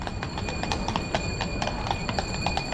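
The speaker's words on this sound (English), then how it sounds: "There's a horse-drawn carriage." Hooves of large horses pulling a carriage clop steadily across a cobbled square in Krakow in winter, a close, even rhythm with a faint ring of harness bells.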